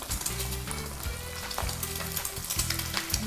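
A fried egg sizzles in plenty of hot oil for a Thai fried-egg salad, a constant loud crackling fry with bursts of spattering as oil is spooned over it, close with no talk.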